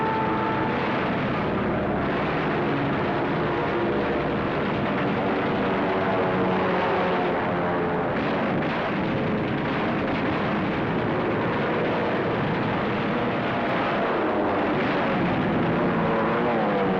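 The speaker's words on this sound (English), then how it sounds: "50 United States dive bombers were hurtling in from the sky" Fifty US dive bombers of World War II come in from the sky, their aircraft engines making a heavy, continuous, droning roar that stays loud and dense throughout, with no speech over it.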